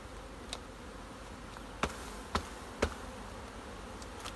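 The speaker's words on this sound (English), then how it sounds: "that's a lot of bees" A steady, faint hum of honeybees fills the air, with a few sharp clicks and taps standing out now and then.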